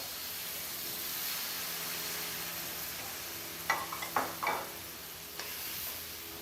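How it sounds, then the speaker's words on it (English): Mirin poured into a hot pan to deglaze it, producing a soft continuous sizzle and hiss with a few sharp clinks of a utensil against the pan. "So I deglaze with my mirin."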